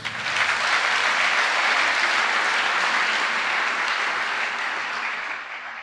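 A church congregation applauding together, a dense sustained wash of clapping that holds steady for several seconds before easing slightly, with no voices standing out.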